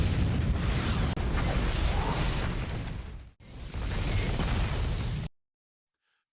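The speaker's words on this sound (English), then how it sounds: "The moment the chemical comes into contact with direct sunlight, a massive explosion erupts" A massive explosion on a mountainside from leaking nitroglycerin set off by sunlight: a loud, sustained broadband roar and rumble that drops out briefly, surges back just as loud, then cuts off abruptly into silence.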